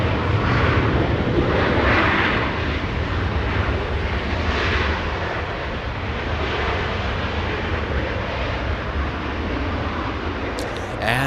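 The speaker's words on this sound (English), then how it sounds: "And a big 747 departure." An Atlas Air Boeing 747-400 departs on runway 25 left at LAX, bound for Hong Kong, with a loud, sustained jet engine roar that holds steady and eases slightly as it goes.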